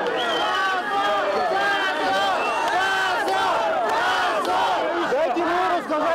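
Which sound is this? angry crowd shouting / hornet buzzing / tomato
angry crowd shouting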